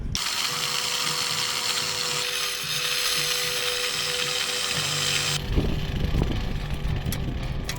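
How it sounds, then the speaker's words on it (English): A power grinder works on a trailer frame in a workshop, giving a loud continuous whine that shifts in tone near the end as the cut changes, with clanking metal. "while I got the grinder out"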